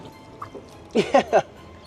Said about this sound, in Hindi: ये खोल देंगे तो यहाँ से गंदा पानी आ जाएगा